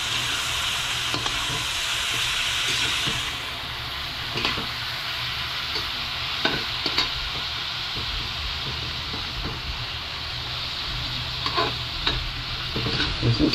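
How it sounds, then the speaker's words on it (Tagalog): Steady, close sizzling and stirring as a Kapampangan bringhe (arroz valenciana) rice dish sautés in a pan with fish sauce (patis), with a continuous hiss broken by scraping spoon strokes and no talking. "Susutay natin hanggang mamaya kumapit yung patis sa mga kabeli."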